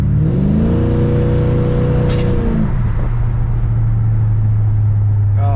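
Pontiac GTO fitted with a Borla exhaust and cut-outs accelerates in traffic, the engine note rising then dropping back to a steady low drone, loud and close.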